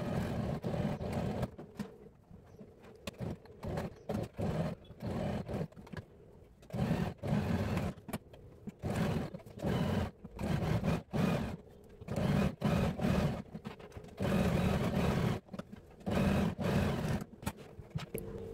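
A sewing machine stitching crop top fabric runs in repeated bursts of a few seconds each, a close whirring mechanical hum with short pauses between runs.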